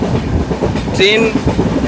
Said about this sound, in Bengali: অবশেষে প্রায় 3 ঘন্টা লেটে ট্রেনটা দীঘা থেকে ছাড়লো